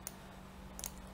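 Two faint, brief mouse clicks on an OK button while building a circular pattern in CAD software, one near the start and one toward the end, over quiet room tone.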